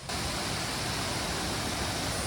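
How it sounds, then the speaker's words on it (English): Spearfish Falls in the Black Hills of South Dakota pouring down, a loud, unbroken broadband roar of falling water close by, steady throughout with no speech. "Oh my God, it's a waterfall."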